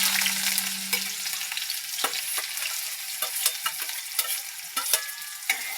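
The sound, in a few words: chopped onions frying with cumin and dried red chilies in oil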